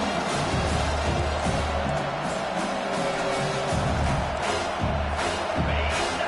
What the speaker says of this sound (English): This crowd, splitting the eardrums and letting them know it's going to be a long day.